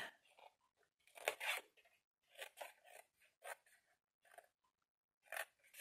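Small scissors snip through paper in a series of quiet, close, crisp cuts with uneven pauses between them, some in quick clusters.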